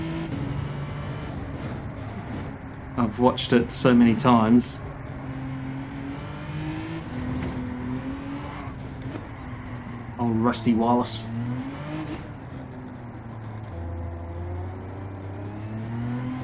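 A race car engine in Gran Turismo 7 revs and accelerates in two short loud bursts, rising in pitch, over a steady engine drone, while someone talks throughout.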